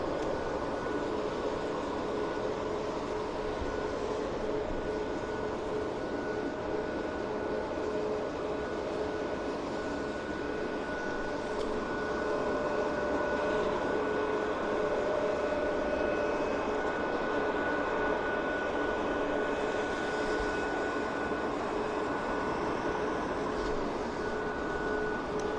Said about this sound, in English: a CRJ heading to Regina, Air Canada Flight 8192, and then behind it, the Boeing is Lynx heading to Calgary.